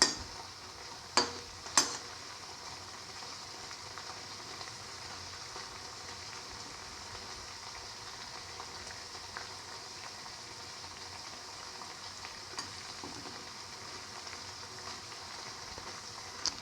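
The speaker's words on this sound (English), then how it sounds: "Let it fry thoroughly." Winter melon and chickpea flour fritters fry quietly in a pan, a faint steady sizzle with a couple of sharp clicks from a utensil near the start, no talk.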